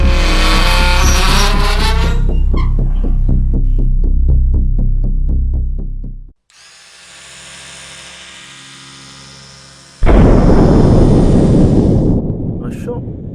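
An explosion from a shot in an animated hero series erupts as a loud, broadband blast that decays into a low rumble. It follows heavy throbbing engine-like noise and a quieter humming stretch.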